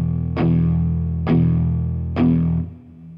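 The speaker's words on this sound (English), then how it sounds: "Now, if I chug on the low strings, you can really hear that emphasized." An electric guitar played through an amp-simulator plugin chugs on its low strings: three loud, heavy palm-muted hits about a second apart, each ringing with a fuzzy, buzzing distortion before it fades.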